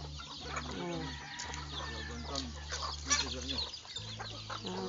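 Backyard chickens cluck in repeated short bursts at feeding time, mixed with rooster-like calls and a steady low hum, all at moderate distance with no talk.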